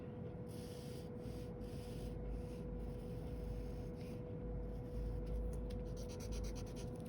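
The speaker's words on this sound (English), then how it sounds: "this time I'm gonna draw it going this way" Graphite pencil scratching across paper in quick back-and-forth strokes, close and soft, a continuous rasping with short pauses between passes.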